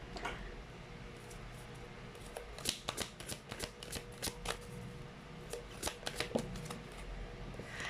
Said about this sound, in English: Let's try to pull up another card.